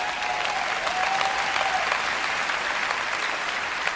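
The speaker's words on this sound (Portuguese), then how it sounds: "Vamos, quem está aplaudindo?" Steady, fairly loud applause from an audience at a Joyce Meyer talk, many hands clapping continuously and evenly for the whole stretch, with no voices rising above it.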